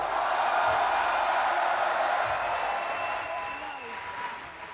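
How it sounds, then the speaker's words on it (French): An audience at a French panel on press independence gives a sustained round of applause, with a broad wash of clapping and faint crowd noise that eases slightly toward the end. "Et je vous demande un tonnerre d'applaudissements"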